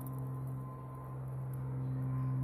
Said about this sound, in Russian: А, это вертолет.